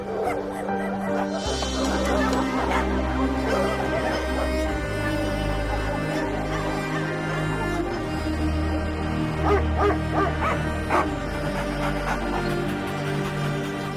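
Stray dogs bark and whimper in repeated yips and cries, fairly close, over a steady sustained tonal backing that lasts the whole stretch.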